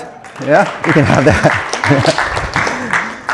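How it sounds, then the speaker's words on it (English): An audience at a WordCamp Brisbane tech talk claps after a magic trick, a steady wash of applause running beneath a man's speech. "Give them a round of applause."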